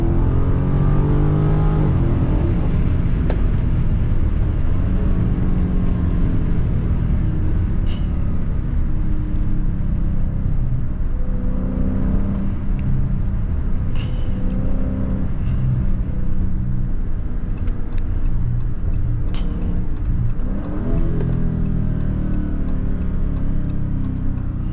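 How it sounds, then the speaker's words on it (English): Cabin view from a 2023 Dodge Charger SRT 392 Last Call as it downshifts, with a loud, steady engine rumble that swells in short rev blips over heavy wind noise for the whole stretch. "Downshifts sound hella crazy."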